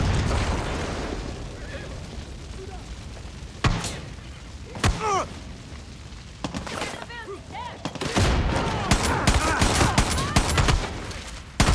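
Chaotic combat in a first-person shooter, with sharp gunshots, thumping blasts and a heavy explosion breaking out amid bursts of automatic fire, growing denser and louder toward the end, while voices speak in between.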